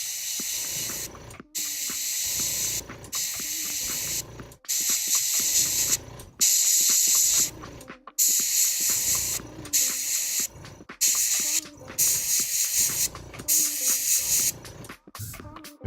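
Red spray paint hisses out of an aerosol can in a long series of steady bursts separated by short pauses, loud and close, with no talking.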